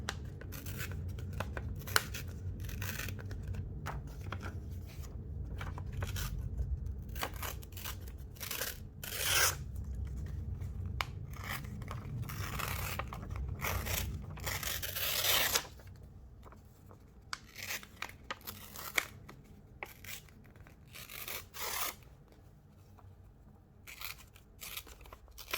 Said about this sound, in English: Now I'm going to just tear my image out here.